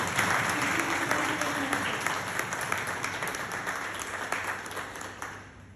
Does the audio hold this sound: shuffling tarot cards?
no